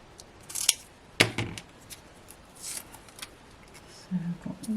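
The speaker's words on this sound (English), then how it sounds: "I'm going to cut these down again." Scissors snip paper craft toppers close up, making a few sharp, quiet cuts spaced irregularly amid soft paper rustling and handling sounds.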